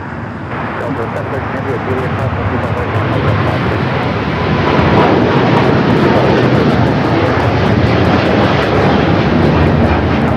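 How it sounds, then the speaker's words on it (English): A China Eastern Airlines Boeing 777-300ER takes off from LAX bound for Shanghai, its engines a loud, steady roar that builds and holds, broadband and close, with faint voices beneath. "This is China Eastern Airlines 586 taking off to Shanghai on the 777-300ER."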